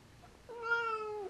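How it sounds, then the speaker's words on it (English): A house cat lets out a single drawn-out meow, close and clear, rising then slowly falling over about a second, with no talk. "Now she's on my lap. What a goofy kitty."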